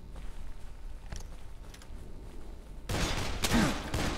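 Gunshots in the Dead Island video game, a faint thump or two early on, then a sudden loud burst of sharp, cracking shots with rattling debris in the last second and a half.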